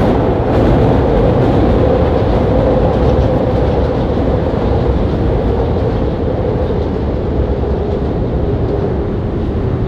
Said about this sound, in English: let me wait for this train to pass real quick